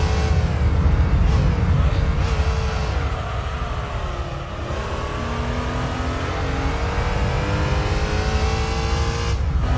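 A race car engine in Gran Turismo 3 roars loudly and steadily in fourth gear down a straight, with its pitch climbing smoothly and dipping briefly at gear changes before rising again, and a constant tire and road rumble underneath.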